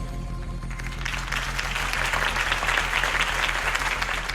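Steady crowd applause in the video game Batman: The Telltale Series, swelling up and continuing, many hands clapping at moderate distance, with no voices over it.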